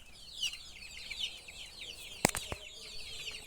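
Fayoumi roosters cluck and chirp softly as they drink from water containers, over a low background, with a couple of sharp flapping or knocking sounds partway through.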